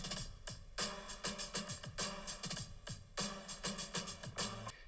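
Drums from an indie pop song, heavily reverberant with a lo-fi feel: steady kick and snare hits under a wash of bright cymbal noise, looping in a continuous groove.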